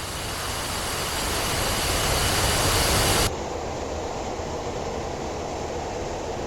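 An F-15E jet in the DCS flight simulator lands with a loud, steady broadband engine roar that holds evenly. The roar drops abruptly partway through to a lower, duller rumble that continues to the end.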